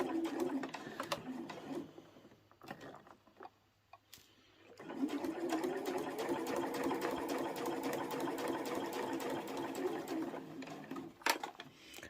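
A sewing machine stitching fabric for a layer cake tray whirs in a short run, pauses with a few clicks, then sews a long steady stretch, close and fairly loud.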